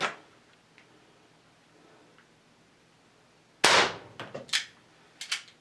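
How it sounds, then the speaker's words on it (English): Crosman 38T .177 air pistol firing pellets over a chronograph: after about 3.5 seconds of near silence, one sharp loud crack comes, followed by a few smaller clicks and knocks of handling. "So let's shoot her over the Chrony and see what kind of results we get here."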